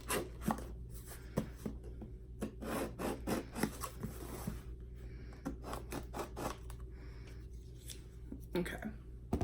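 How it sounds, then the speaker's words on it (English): Scissors cut and scrape through a cardboard box, giving a run of close, uneven snips and rasps with short pauses between strokes, over a low steady background hum. "I'm using some scissors."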